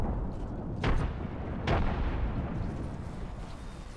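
Frag grenade blast in a video game battle: two muffled booming explosions go off about a second apart, mid-distance, over a steady rumble of background noise.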